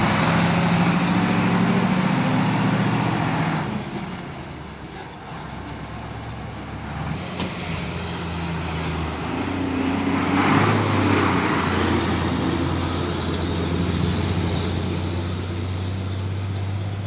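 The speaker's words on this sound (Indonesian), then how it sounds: "Masuk lagi dump truck intercooler Tekad Group." A dump truck with an intercooler labours up the steep Bukit Kodok climb on a hot midday, its deep engine drone rising and falling, close and loud, mixed with surrounding road traffic.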